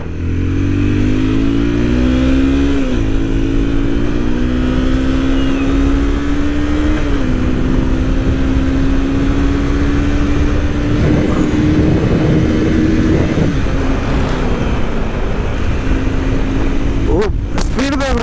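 A Honda CBR 250R is ridden off-road in the Chakkarlu hills, its exhaust droning loud and continuous as the engine pitch climbs through rising revs across several gear changes. A brief clatter comes near the end.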